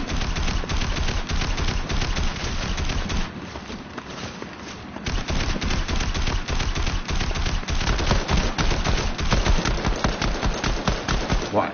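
Rapid automatic gunfire pours at a boss in a video game, dense and loud bursts nearly nonstop with a brief lull midway, a voice heard occasionally beneath.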